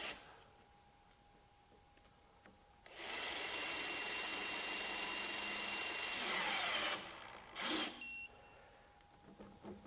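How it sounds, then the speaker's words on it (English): A Ryobi P262 One+ HP 18V half-inch impact wrench, rated at 600 ft-lbs, tightens a fastener welded onto a plate. It hammers loudly and continuously for about four seconds, then gives one brief second burst. "So, let's go ahead and try to tighten it."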